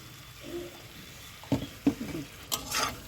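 Ground coriander and cumin are stirred in a hot pan for chicken patiala, with a few distinct scraping strokes of a spatula against the metal over a faint sizzle, close by and with no talking.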